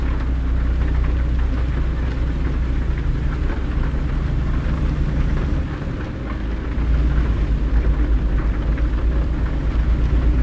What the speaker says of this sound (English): Man, that rain's really come down on the roof. You can hear it.